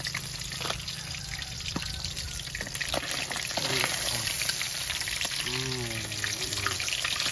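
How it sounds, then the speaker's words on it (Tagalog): Milkfish (bangus) fries in a pan with a dense, crackling sizzle and spattering pops close by, growing slightly louder midway, while a voice speaks briefly near the end. "May piniprito pa po guys."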